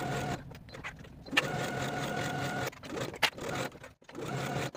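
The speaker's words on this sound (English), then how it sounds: "Sew the sides and unnotched edge with a 5/8 inch seam allowance." A sewing machine stitches fabric cuff seams with a 5/8 inch seam allowance, running in steady mechanical bursts with brief pauses between stretches of stitching.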